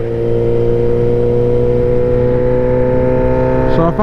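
Suzuki GSX-S 750 naked motorcycle revving at steady high pitch, a loud sustained engine whine with strong harmonic tones that falls away sharply near the end.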